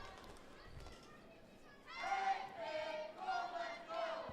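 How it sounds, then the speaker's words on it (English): Kids cheer at a school volleyball game, a burst of high-pitched shouts and whoops rising after a quieter murmur and continuing in loud waves over the last few seconds. "Kids are cheering."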